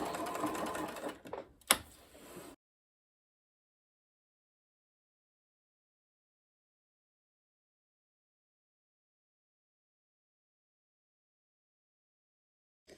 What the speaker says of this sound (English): finishing off with another row of stitches going down to the hem, and then we back stitch there